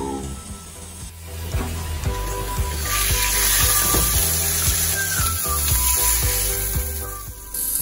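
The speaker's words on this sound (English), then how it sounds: "Put 2 tablespoons of canola oil in a pan and sear all sides of that chuck roast." Chuck roast sears in canola oil in a pan, giving a loud, steady sizzle throughout with scattered pops and scraping clatter, no voices.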